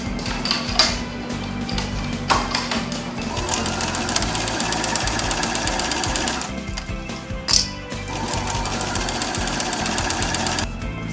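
A sewing machine stitching a seam on an upcycled leather barrel bag, a fast, steady mechanical rattle running in bursts with brief pauses and a few sharp clicks between runs, close and loud without talk.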